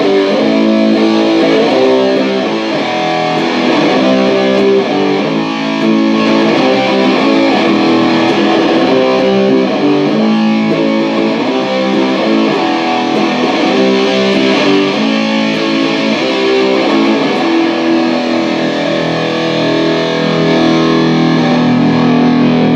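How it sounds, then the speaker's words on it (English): Heavily distorted electric guitar through a DOD Distortion GFX70 Extreme pedal, loud and constant, with thick riffing and ringing chords filling the whole stretch. "we're over here at the DOD Distortion GFX70 Extreme"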